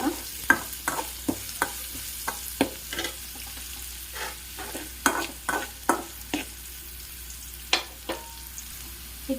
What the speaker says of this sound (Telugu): క్యారెట్ వేసుకొని కాస్త కలుపుకొని క్యారెట్ బాగా ఫ్రై అయ్యాలి